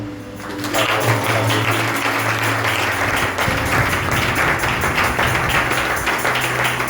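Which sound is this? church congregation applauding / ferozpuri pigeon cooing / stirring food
church congregation applauding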